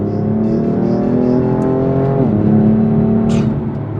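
A BMW M4 Competition F82 engine drones loudly and steadily, pitch climbing, dipping at a gear change, then rising again as it accelerates.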